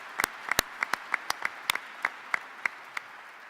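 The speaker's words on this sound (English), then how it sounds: "We can clap for her, too." Audience applause at a press conference formally introducing an NC State basketball coach: a sparse, moderately close scattering of individual claps and short bursts, steady and not overwhelming, with no talk over it.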